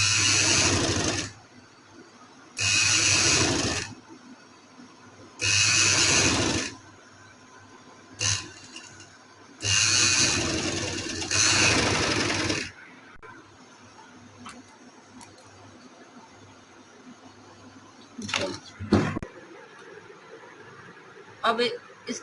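A sewing machine stitching cloth runs in several loud mechanical bursts of a second or two each, close by, with pauses between runs and a few small clicks afterward as the fabric is handled.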